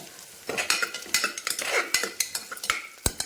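Green chilies and onions sautéing in a pan with curry leaves for a white vegetable kurma, a steady sizzle broken by a quick run of sharp spatula scrapes and clinks against the pan, close and fairly loud.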